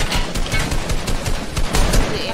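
Rapid automatic gunfire in a video game aimed at a mech, loud dense bursts of shots running continuously through the short moment with no clear speech.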